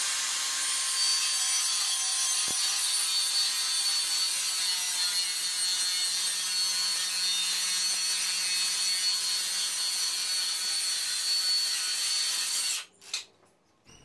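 A saw with a very shallow blade cuts straight through 5mm MDF pegboard in one long, steady, close rasping pass, which stops abruptly near the end, followed by a few brief knocks.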